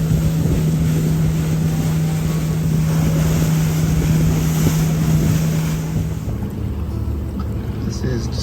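Motorboats out in Discovery Harbor at Campbell River make a loud steady engine drone mixed with strong wind buffeting the microphone and lapping water; the engine tone fades partway through, leaving the wind and waves.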